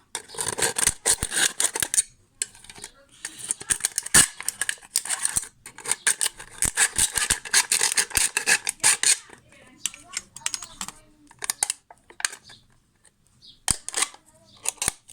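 Scissors cutting through a thin aluminium Coca-Cola can to take the top off, rapid crisp snips and crinkling metal in close bursts separated by short pauses.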